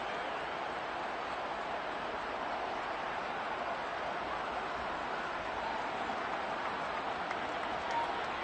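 Stadium crowd in Madden 23 at a football game, a broad, steady roar of cheering fans swelling evenly without breaks, loud and continuous.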